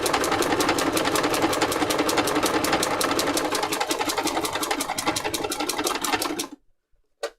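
Domestic sewing machine stitching free motion embroidery on fabric for a junk journal cover, a loud, fast, steady mechanical whirr with rapid needle ticking that runs continuously for about six seconds, then stops abruptly into near silence.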